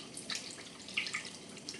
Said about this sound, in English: We are gonna do the same with our Lee Perrin sauce. We're gonna put a good amount in.